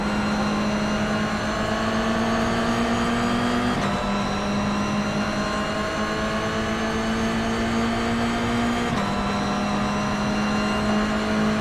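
Loud, continuous race car engines in the iRacing video game drone at high revs, pitch rising steadily and dropping sharply at two gear shifts, with no talking.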